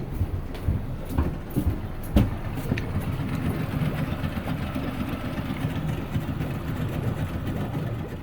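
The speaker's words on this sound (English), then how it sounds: "Now I'm just basically idling." A barge's boat engine idles with a steady low rumble, broken by a few soft knocks and thumps near the start.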